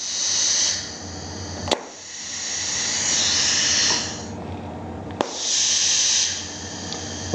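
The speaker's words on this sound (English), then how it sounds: "pilot operated spring return valve, which operates this air ram" Compressed air hisses in sharp bursts as a pneumatic pilot-operated spring-return 3/2 rotary lever valve switches an air ram, with sudden clicks of the valve and steady exhaust hiss between.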